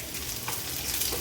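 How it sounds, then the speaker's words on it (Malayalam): Dried red chillies and curry leaves fry in hot oil for a sambar, giving a quiet, continuous crackling sizzle with a light stir and no voices. "ഇനി ഇതിനകത്തോട്ട് ഈ ഡ്രൈ റെഡ് ചില്ലീസും ഈ വെച്ചിരിക്കുന്ന കറി ലീവ്സും കൂടെ ഇട്ടിട്ട്"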